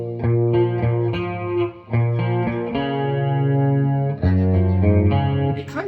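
Electric guitar played through a Roland GP100 multi-effects unit set to a JC120-style 80s clean tone with chorus, ringing out sustained chords and arpeggiated notes in a steady, loud, uninterrupted phrase with no talking.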